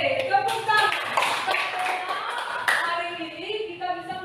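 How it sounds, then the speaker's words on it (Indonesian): Schoolchildren in a classroom clap their hands together in uneven rhythm, with overlapping bursts of claps and chatter and voices mixing throughout. "Oke, tepuk tangan."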